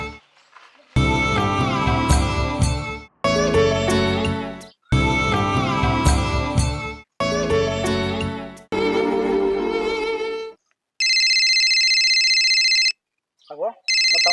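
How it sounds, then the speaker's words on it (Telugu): A phone rings in a Telugu short film drama: repeated bursts of a musical ringtone with short gaps, loud and close, then a steady electronic tone. No one speaks during the ringing. "అగో మా తమ్ముడు ఫోన్ చేస్తాడు."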